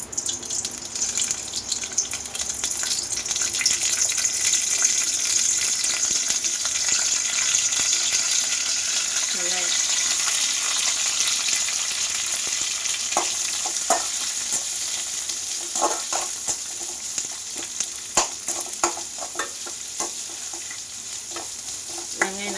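Whole spices (bay leaf, cinnamon, star anise, cloves) and curry leaves sautéing in hot oil for vadacurry, a steady close sizzle with occasional stirring clinks, no talking.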